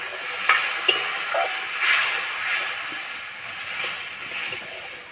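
Water hits a hot pan of egg curry with peas and raises a steady, moderately loud hiss of steam and sizzle that swells and eases over a few seconds, with a couple of brief clinks near the start.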